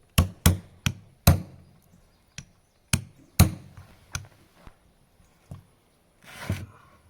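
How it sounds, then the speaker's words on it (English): A steel chisel struck with a hammer while prying apart a tie rod hydraulic cylinder: a run of sharp, close metallic blows, several quick hits then spaced single taps, ending in a brief scraping rasp. "then you can hit the top of the chisel with the hammer"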